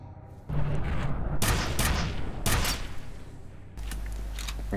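Gunfire and explosions from the first-person shooter F.E.A.R. Extraction Point come in loud, dense bursts over a constant rumbling backdrop, with abrupt shifts between volleys and no voices.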